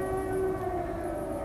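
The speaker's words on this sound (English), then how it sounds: "Then the siren again." Air raid siren wailing during a wartime night alarm in Nazi Germany, a steady sustained tone that slowly drifts in pitch, loud and continuous with no talk over it.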